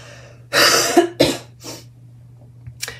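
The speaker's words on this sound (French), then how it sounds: "c'est peut-être pas pour rien que je suis en train de tousser là" Several close, harsh coughs in quick succession, the first loudest, followed by a short cough and a quiet breath, with a low hum underneath.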